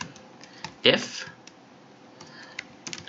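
Keyboard typing while entering code for a Pong clone game, a few scattered clicks and one louder burst of keystrokes, close and fairly faint, with a voice speaking over it.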